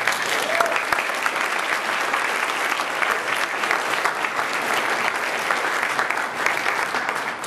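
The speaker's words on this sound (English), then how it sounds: "So let's give everybody involved a big round of applause." A church congregation at a Christmas pageant service breaks into loud, sustained applause, a thick, continuous roar of clapping that stays level throughout.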